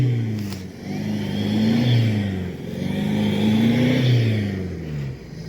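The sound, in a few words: car engine revving with wheels spinning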